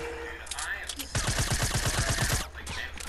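A rapid burst of tactical machine gun fire in Fortnite, around a dozen sharp shots in quick succession lasting over a second, loud and close, with game ambience before and after.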